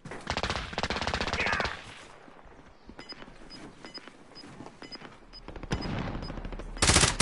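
Gunfire in a battle royale video game crackles in rapid bursts, first a loud fast volley, then sparse shots under quieter ambience, and another heavy burst near the end.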